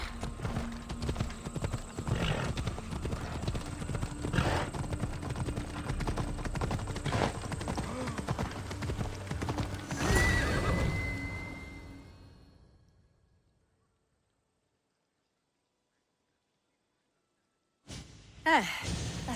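A horse in Assassin's Creed Odyssey gallops with steady rhythmic hoof clops and snorting breaths, the ride fading into silence before a whinny and renewed hoofbeats at the end.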